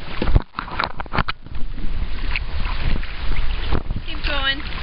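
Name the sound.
paddling a boat on water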